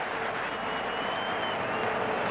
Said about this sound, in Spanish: aplauso del Santiago Bernabéu a la labor de Rafa Martín Vázquez, que abandona el terreno de juego